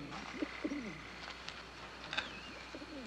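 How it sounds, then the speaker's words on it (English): Soft, low cooing bird calls, a few short phrases repeating close by, with faint chirps and light background noise between them. "I hear the voice of a bird."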